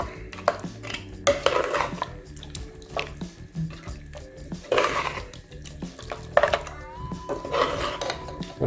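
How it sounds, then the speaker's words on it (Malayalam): Mutton masala for Andhra mutton curry being stirred in a pressure cooker pot, with a ladle scraping and clinking against the metal in irregular bursts, close up, plus a few drips and wet sloshes. "എന്നിട്ട് ഇത് നന്നായിട്ട് വീണ്ടും മിക്സ് ചെയ്യുക."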